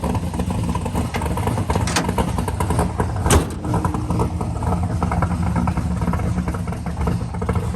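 The hood of a 1970 Chevrolet Camaro shuts with one sharp, close thud midway, over a steady engine rumble that continues throughout.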